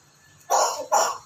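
A talking parrot imitates a human cough, giving two short, loud, close coughing bursts, the second right after the first, with no speech.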